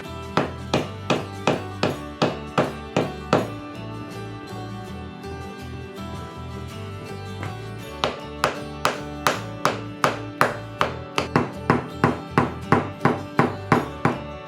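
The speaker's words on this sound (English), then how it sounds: "Use a hammer to hit two." A hammer strikes a plastic substrate bonded with MS sealant, sharp regular knocks in quick succession, a short pause midway, then another steady run of hard taps, close and distinct.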